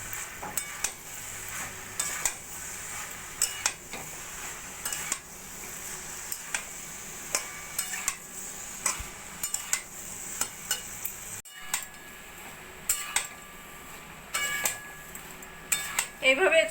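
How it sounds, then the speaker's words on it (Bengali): A spoon scrapes and clinks against a pan while boiled jackfruit, fried potatoes and spices are stirred together, with a low sizzle underneath and a steady series of light taps; no speech is heard. "এবার সব কিছু ভালো করে মশলার সঙ্গে মিশিয়ে নেব"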